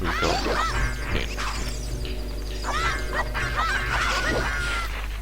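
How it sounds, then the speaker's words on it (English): Cuccos in Zelda: Ocarina of Time cluck and crow in a series of squawking, honking calls repeating over a steady low hum, fairly loud and close with no talking. "when the cuckoo sounds, we go in"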